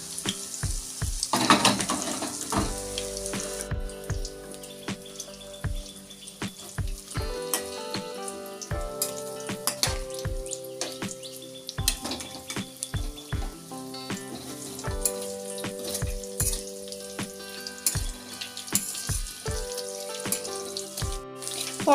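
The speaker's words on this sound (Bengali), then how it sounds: "পটল কিন্তু আমার একদম ভাজা হয়ে গেছে" Slices of pointed gourd (parwal) fry in hot oil, sizzling steadily up close under background music with tonal notes.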